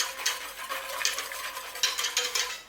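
Stirring palm oil and broth into a pot of Cameroon yellow soup, with close, steady scraping and swishing and a few sharper clinks of the spoon, no voices.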